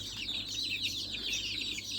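Young desi chickens, about four weeks old, cluck and peep in a continuous soft chatter close by, with no voices.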